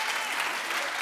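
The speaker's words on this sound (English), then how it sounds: "So now clap if you want to" A studio audience claps at a talk show, a dense, steady wash of many hands lasting the whole moment, close and fairly loud with no voice on top.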